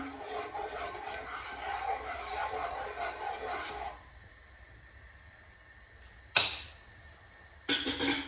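Sauce ingredients with sugar added being stirred in a frying pan for Chinese-style chicken: soft continuous scraping and rubbing for about four seconds, a quieter stretch, then two sharp clinks of utensil against the pan.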